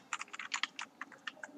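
Rapid, faint keystrokes on a computer keyboard while code is typed, a quick irregular run of light clicks at close range with no voices.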